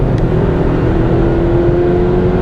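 A 2013 BMW X1 sDrive 28i pulling at low speed gives a steady, loud engine drone with a faint sustained tone over it, and no voices.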